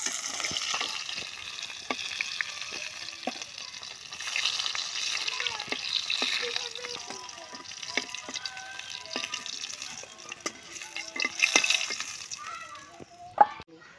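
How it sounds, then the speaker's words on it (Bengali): Potatoes fry in a pan of oil in a village-style home kitchen, a steady broad sizzle with scattered clicks and scrapes of stirring, rising and falling over time. "আলু ভাজিয়ে নেবো"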